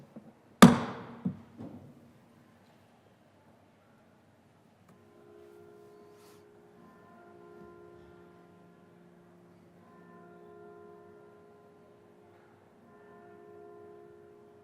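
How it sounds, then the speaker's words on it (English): Memorial chimes rung in the Colorado Senate chamber during a moment of silence: a sharp struck onset followed by a few quick strikes, then soft sustained ringing tones that swell and fade several times in a quiet room. "the chimes will be rung in memory of Senator Martha Ezard"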